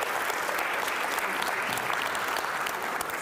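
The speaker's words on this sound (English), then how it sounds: "Shall we give a round of applause for James for finishing all his exams?" A room full of people clapping steadily and warmly during a church morning service, the applause sustained and even throughout.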